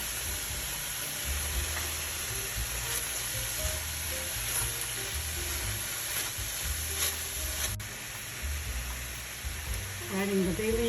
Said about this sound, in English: so they saute with the meat, the ground meat. Just adding a little salt and pepper.